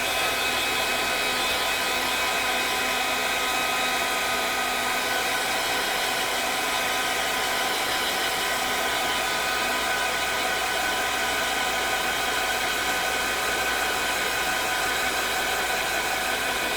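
Heat tool blowing on a canvas piece for a mixed media layout, a steady loud whirring hiss that runs unbroken throughout with no speech.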